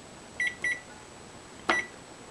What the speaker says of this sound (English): I'm gonna set the timer.